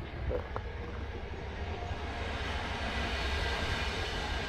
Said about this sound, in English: That's the train.